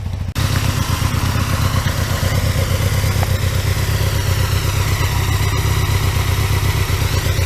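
A loud, close Aprilia motorcycle engine, an RSV1000, runs steadily after a brief start, with a deep rumbling idle and mechanical clatter throughout and no talk.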